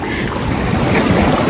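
Ocean waves at Geger Beach in Bali churn in a close, continuous rumble, heavily buffeted by wind blasting across the microphone.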